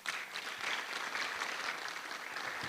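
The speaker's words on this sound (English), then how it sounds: "Please let us clap for the director." An audience claps in a conference hall for a director at a research and innovation conference, a steady, fairly soft wash of applause filling the whole stretch with no speech over it.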